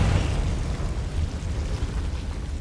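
The Confringo spell explosion in the Hogwarts Legacy video game, a loud, rumbling blast that sustains as a dense, noisy roar across the whole moment, close and with no voices.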